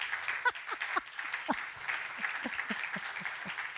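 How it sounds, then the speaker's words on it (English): An audience at a talk on creativity and the internet claps steadily, a moderately close patter of many hands with no voices on top. "and applause"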